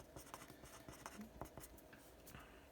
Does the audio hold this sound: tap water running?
no